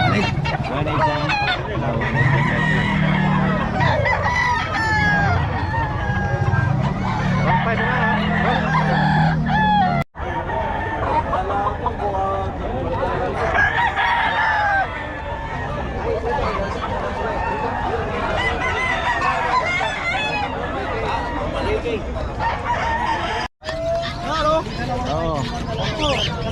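Roosters crow repeatedly amid hens clucking at a busy poultry sale, with people talking and bargaining throughout.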